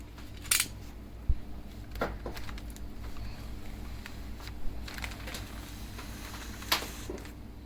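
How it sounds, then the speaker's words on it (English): Hydro dip water transfer film being cut with scissors for a motorcycle helmet, a few sparse, faint snips and clicks over a steady low hum. "Let's cut the film."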